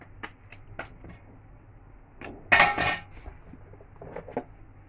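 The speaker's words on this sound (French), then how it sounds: "je mets une cuillère à soupe voilà, de levure boulangère" Tablespoon of baker's yeast going into a bowl while making cinnamon maandazi dough: sharp clinks of a metal spoon against a dish, a few scattered taps and a louder clattering cluster midway, close and otherwise quiet.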